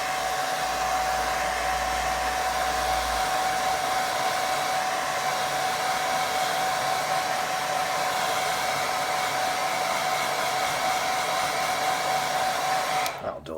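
A hair dryer blows steadily and loudly over a wet watercolour sky painting, a constant whirring drone with a high whine that cuts off abruptly at the end.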